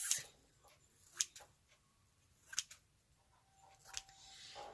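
Scissors snip through a six-inch-wide Dollar Tree ribbon, making a few quiet, separate cuts spaced a second or so apart against a near-silent background with no talking.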